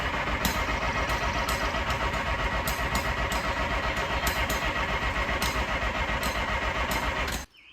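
A tractor engine running after being refuelled, a steady loud mechanical chugging with rhythmic ticking close by, continuing unbroken for several seconds before cutting off abruptly at the end.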